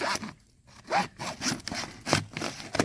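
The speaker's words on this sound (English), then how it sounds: "And cut straight through it." A handsaw cutting straight through a plastic drain pipe while fitting a catch basin, rasping back-and-forth strokes in a steady rhythm, close and fairly loud, with no talking.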